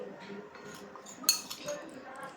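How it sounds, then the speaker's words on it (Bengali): A spoon stirs a homemade rice scrub of sugar and honey in a bowl, giving soft, scattered clinks against the dish with one sharper clink partway through, all fairly faint. "আসুন এখন উপকরণগুলো আমরা একসাথে মিক্স করি"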